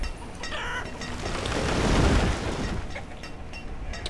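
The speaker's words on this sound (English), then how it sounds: "So this chickens will definitely help with our food." Chickens clucking in the village-building game Banished, a cluster of soft clucks and fowl chatter over a swelling ambient wash, moderately close and without speech.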